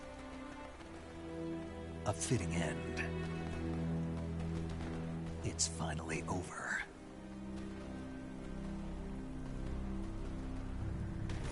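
Steady rain patters and hisses in the video game Metal Gear Solid 3 Delta, a constant wash under a voice speaking partway through, with a few sharper crackles in the middle.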